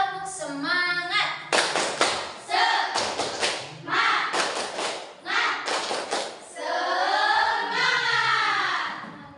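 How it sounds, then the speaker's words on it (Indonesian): A group of children chants in rhythm in a classroom, punctuated by several sharp bursts of clapping in time with the words. "Coba tepuk semangat."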